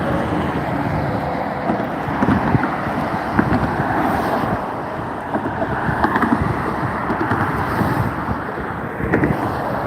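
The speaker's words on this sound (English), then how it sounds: "And it is noisy here because there is traffic" Road traffic rumbling near a bridge by a rail station, a loud continuous broadband roar with passing vehicle swells and wind buffeting, no talk.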